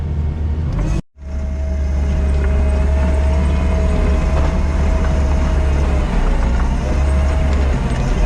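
A Komatsu D51 bulldozer backfills and grades soil around a house foundation, its engine a loud, steady diesel drone close by that cuts out briefly near the start and then runs on unbroken.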